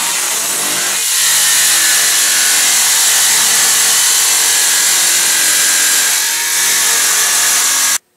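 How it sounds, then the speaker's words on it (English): Jigsaw cutting through sheet metal during a Kubelwagen build, a loud continuous rasping buzz with the pitch easing and picking up twice, running for about eight seconds and stopping abruptly. "it is possible to cut sheet metal with a jigsaw"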